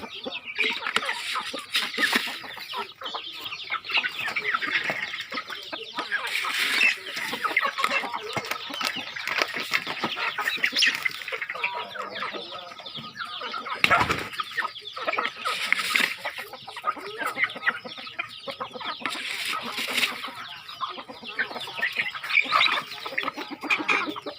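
Small Thai gamecocks clucking steadily and close at hand through the whole stretch, with busy overlapping calls from several birds and a brief louder burst near the middle.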